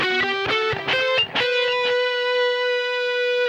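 A distorted electric guitar plays a quick run of notes from the third solo of Guns N' Roses' "Sweet Child o' Mine," then holds one long sustained note that rings out to the end, loud and close.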